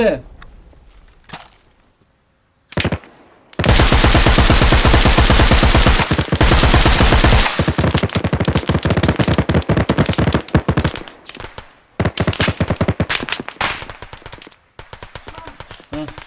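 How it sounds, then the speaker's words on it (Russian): Heavy gunfire in the military shooter Arma Reforger: loud sustained automatic bursts, then long stretches of rapid repeated shots with brief pauses and scattered single cracks, close and dominant, with a few voices between volleys. "стреляй по воротам, они простреливаются"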